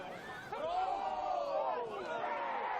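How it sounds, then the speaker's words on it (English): A football crowd at an Australia Cup match shouts and appeals together, a dense roar of many voices rising and falling over a few seconds. "crowd appealing for everything"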